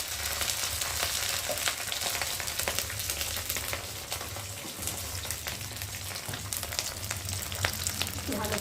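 Cumin paste, garlic paste and green chillies fry in hot oil, giving a continuous crackling sizzle with occasional stirring clicks, steady and close throughout.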